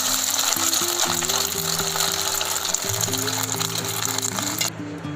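Egg-dipped Peshawari shami kebabs, onion-filled, frying in a kadhai give a steady, close oil sizzle. It runs evenly throughout under tonal background music and cuts off just before the end.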